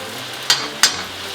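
Garlic cooking in a hot pan with butter beside a cognac steak sauce, a steady sizzle broken by two short, sharp spatters or stirring scrapes, close and fairly loud with no talk.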